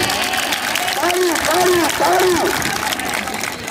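A crowd claps at an outdoor Malakhra wrestling event, a dense, loud wash of applause with an announcer's raised voice calling out over it.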